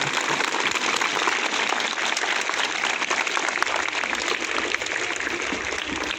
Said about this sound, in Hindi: इनके लिए भी शानदार तालियां